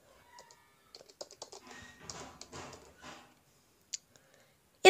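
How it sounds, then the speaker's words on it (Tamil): Clicking keystrokes on a computer keyboard while text is typed into Microsoft Word, coming in quick bursts and short runs of taps with pauses between, close and fairly quiet. "நான் என்ன பண்ணுறேன்னா வந்து ஒரு டெக்ஸ்ட் டைப் பண்ணுறேன்"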